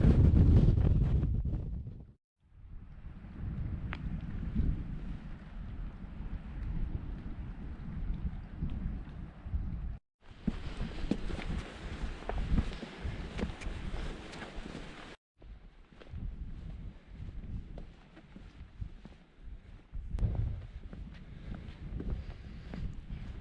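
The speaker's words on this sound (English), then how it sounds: "Oh my god, the wind!" Strong gusting wind on an exposed mountain by an old slate quarry in Snowdonia buffets the microphone in loud roaring waves, with brief lulls between heavy blasts and no voices.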